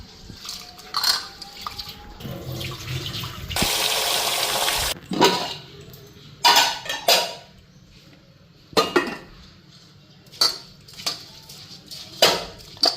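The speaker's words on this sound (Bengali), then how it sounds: "চালটা এখন ভালো করে ধুয়ে নিই।" Rice being washed with water in a cooking pot at home: irregular splashes and swishes, one longer burst of pouring or sloshing water, and scattered clinks from the pot, fairly close with no talking.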